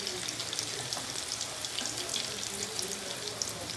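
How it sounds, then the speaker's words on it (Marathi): Green chillies frying in hot oil in a tilted wok, a steady close hiss and crackle of moisture cooking out, continuous and even throughout with no talk. "त्याच्यामध्ये ती मिरची छान आपली भाजली जाते, छान खरपूस भाजली जाते ती"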